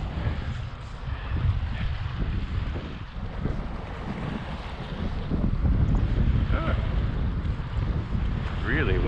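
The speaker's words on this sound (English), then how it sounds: "Really windy today." Strong wind buffets the microphone on a boat out on a lake, a loud continuous roaring rumble that surges louder partway through, with water sounds mixed in and no clear speech.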